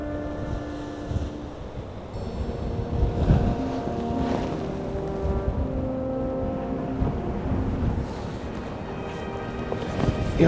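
Wind gusts buffet the microphone outdoors on open public land during an antelope hunt, a steady low rumbling roar that swells and eases for the whole stretch with no one talking.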